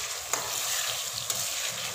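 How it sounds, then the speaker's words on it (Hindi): Spice masala for chicken karahi frying and being stirred in a pan, a steady close sizzle with a couple of sharp spoon scrapes, no talking. "यही पॉइंट है जहाँ पे हमने मसाले को बहुत अच्छी तरह से भून लेना होता है"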